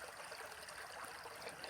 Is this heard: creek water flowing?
yes